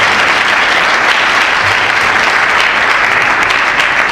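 Loud, steady congregation applause fills a church, dense and continuous from start to finish with no voices on top.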